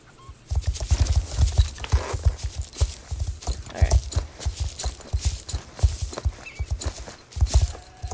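Horse hooves clip-clopping at speed along a trail ride in the Star Stable video game, a steady galloping rhythm of loud, close thuds with an occasional whinny, and no talk over it.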